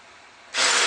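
A loud burst of power-drill whirring and grinding as a 10mm bit bores holes in a wall for a satellite dish bracket cuts in abruptly after a brief quiet moment, close up.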